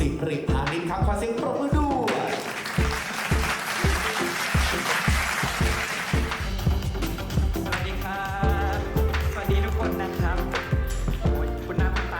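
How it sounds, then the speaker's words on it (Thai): Audience applause welcoming a doctor at a Thai dermatology event, steady clapping that fills the room for about twelve seconds, overlapped by amplified background music and some talk. "ขอเสียงปรบมือต้อนรับครับ"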